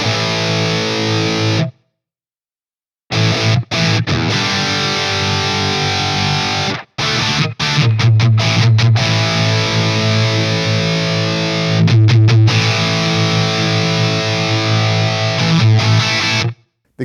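Heavily distorted electric guitar played through a UAFX Knuckles '92 Rev F Dual Rectifier amp pedal with a TC bass control, loud sustained chugging riffs cut by abrupt gated silences and short stops.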